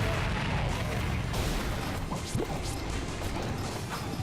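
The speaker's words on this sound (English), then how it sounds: "I found that explosions in this game are actually fairly safe to kinda just tank." Dense, continuous crashing roar of explosions in a video game, loud and sustained with scattered sharper bangs and debris-like clatter throughout, no speech over it.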